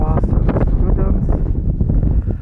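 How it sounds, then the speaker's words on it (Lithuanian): A strong wind buffets the microphone outdoors on a cold day in early winter, a loud continuous rumbling roar with gusty swells, and a person speaks through it. "ir labai vėjas šiandien toks."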